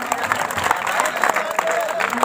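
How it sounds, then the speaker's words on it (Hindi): Spectators at a kabaddi tournament give a steady round of applause, with dense clapping under an announcer speaking over the crowd. "जोरदार ताली से अभिनंदन और स्वागत।"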